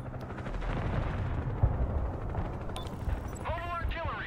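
Artillery and gunfire in the war video game Broken Arrow, with dense rumbling blasts and rapid shots under busy battle noise, plus a brief whining mechanical sweep near the end.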